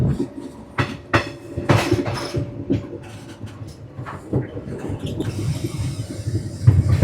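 Inside a train running between Banihal and Srinagar in Kashmir, there is an irregular rattle and clatter of carriage noise with knocks and thumps, and a voice speaks in the background.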